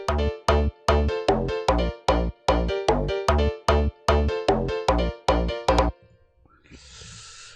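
Bounce beat built in FL Studio with a heavy bass pattern: a fast, steady run of loud punchy bass hits repeating for about six seconds, then a brief fade into a soft hiss and faint noise.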